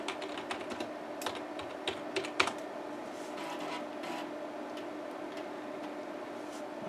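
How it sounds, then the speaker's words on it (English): Computer keyboard keys clacking as a DOS command is typed, a quick irregular run of close taps that thins out into a few isolated keystrokes over a quiet room hum. "And we type fdisk mbr"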